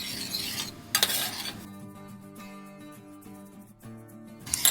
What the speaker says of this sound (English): I'm gonna allow the garlic and ginger to simmer in that soy sauce